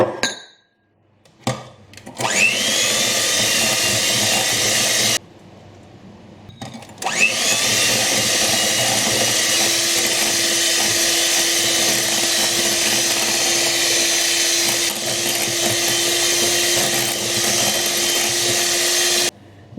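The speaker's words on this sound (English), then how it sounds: "we're going to whisk in the eggs one at a time until the mixture is light and fluffy" A stand or hand mixer whisks eggs into cake batter, one egg at a time, for a saffron and cardamom milk cake. The motor hums loudly and steadily, with a brief stop and a restart, and the beaters clink against the bowl.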